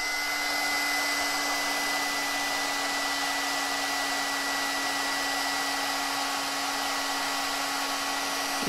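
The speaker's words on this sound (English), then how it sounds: "I'm going to bring in my heat tool, and it's going to get a little bit loud for a minute, and I'm just going to cook this powder" Heat tool blowing hot air over metallic embossing powder, a loud, steady, close whooshing drone with a fixed hum that runs unbroken from start to finish.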